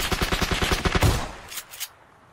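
Automatic gunfire in the video game PUBG, a rapid burst of about a dozen loud, evenly spaced shots followed by two or three scattered single shots.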